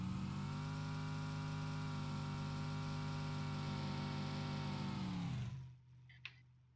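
A car engine in PUBG Lite drones loudly and steadily at a constant pitch, then cuts off abruptly near the end, leaving near silence with a single faint click.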